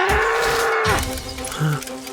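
A cartoon mimicry artist imitates a bull's bellow: one drawn-out, low, moaning call that slides downward in pitch, followed by quieter rumbling.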